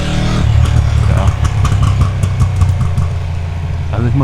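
Ducati motorcycle engine idling hot in the Bavarian Alps, a loud, steady low rumble with a throbbing pulse, close to the bike, running alone without speech.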